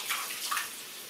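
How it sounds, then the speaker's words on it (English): Water streams from a tap during a hair-washing scalp massage, a close, steady hiss of running water with soft surges, heard alone with no talking. "You got the sound of the water"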